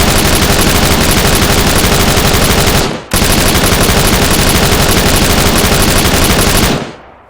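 Continuous rapid machine-gun fire from the Lim 85 in the Arma 3 video game, a loud unbroken stream of shots with one brief break, then a second long burst that cuts off abruptly.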